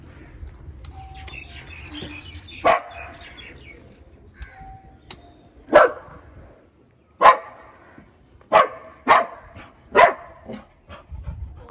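A puppy barks in sharp, loud, separate yaps, about eight spread over several seconds, while small birds chirp faintly in the background.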